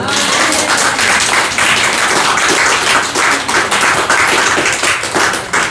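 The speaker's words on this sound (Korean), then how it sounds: "박수 치시라." Congregation clapping loudly and steadily through a Sunday church worship service, a dense rapid patter of many hands filling the room without pause.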